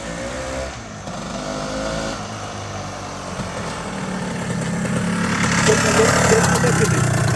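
A 1975 Penton 250GS Hare Scrambler motorcycle engine running, a buzzy idle that rises in pitch and loudness toward the end, with someone talking over it early on.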